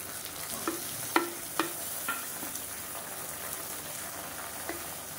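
Sliced large onions frying in coconut oil for chicken biryani in a pressure cooker, giving a steady soft sizzle with occasional clicks of stirring, heard alone without talk.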